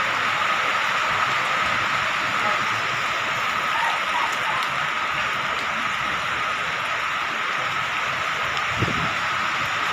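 Steady rain hisses continuously, a dense wash of falling drops with no break throughout.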